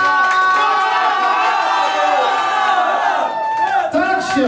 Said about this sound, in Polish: Wielkie brawa dla wszystkich gości, którzy tworzą ich dzień.